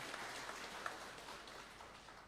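A congregation at a joint Christmas service at HKBP Bandung church applauds, a soft, even patter of many hands heard from a distance, steady and faint throughout.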